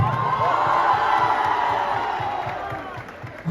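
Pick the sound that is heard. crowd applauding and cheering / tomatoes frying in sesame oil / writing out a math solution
crowd applauding and cheering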